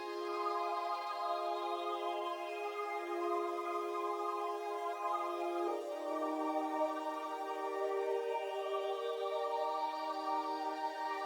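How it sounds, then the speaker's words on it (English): Two layered ambient synth pads sustain as a soft, wide chordal drone, a gentle shift in the middle, with no voices. "to achieve this, again, I layered 2 different pads."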